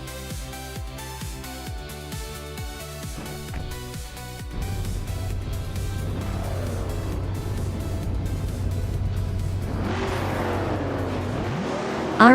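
Race cars launching from the grid at Castle Combe in a racing video game, including a classic 1969 Pontiac on pole, with a steady loud engine drone building into rising revs and a surge near the end.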